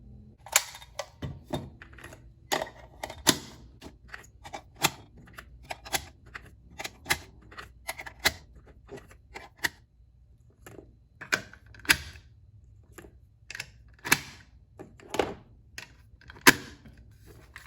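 6ARC rounds being pressed one by one into a Duramag 6.5 Grendel magazine, a series of sharp metallic clicks at an irregular, steady pace, close and alone.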